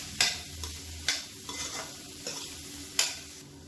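A spatula stirs roasted spice powder into cauliflower frying in oil for a pepper fry. Several distinct scraping strokes cut through a steady, close sizzle.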